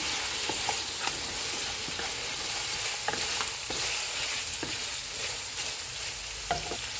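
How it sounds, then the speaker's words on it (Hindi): Beef fries with ginger garlic paste in a hot pot for pulao, a loud, dense, continuous sizzle close up, broken by occasional scraping stirs of a spoon, with no voices. "इसमें बीफ डालेंगे। इसको हम 3 से 4 मिनट तक भूनेंगे।"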